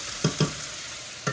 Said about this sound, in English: All right, sizzling away.